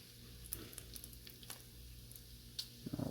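Bacon strips frying on a flat-top griddle give off a steady low sizzle at close range, with a few scattered pops and scraping clicks over the cooking.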